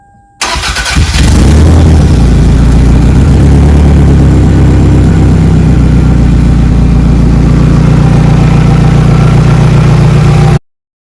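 A Toyota Camry engine from the 1997-2008 generation cranks and fires after a serpentine belt replacement, then settles into a steady, close idle that runs for about ten seconds.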